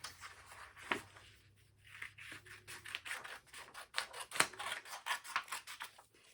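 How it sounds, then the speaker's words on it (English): Repeated crisp snips of scissors cutting out a paper chart, close by, in an irregular run of short cuts with soft rustling between them. "you are just going to take some scissors and cut this out"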